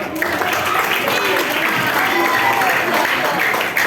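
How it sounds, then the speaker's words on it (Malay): Schoolchildren at an anti-bullying talk applaud loudly and continuously, a dense close clatter of many small hands filling the room for a few seconds. "Okey, bagi tepuk tangan dia."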